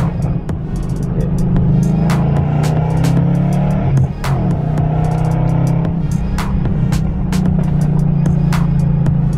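A Ford Mustang GT fitted with a Paxton supercharger pulls hard, its engine droning loud and close with a steady, slowly shifting pitch and a few brief sharp bursts, heard from inside the car.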